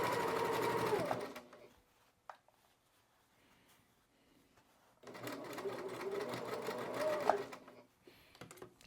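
A domestic sewing machine stitches quilt seams in two close, steady runs of fast mechanical whirring with a brief whine, separated by a quiet pause with a few small clicks.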